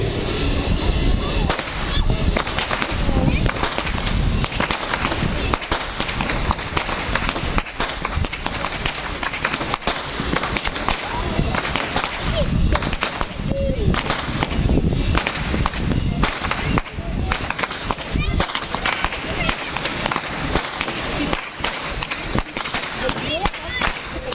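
Traditional carnival whip crackers at an outdoor Slovenian carnival parade snap whips in a dense, rapid, continuous barrage of loud sharp cracks, with crowd noise and some talking underneath.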